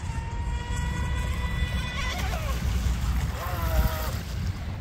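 A small motor of a mini mono RC boat whines steadily with rising and falling pitch sweeps as it laps a pond, heard from a distance over outdoor background noise.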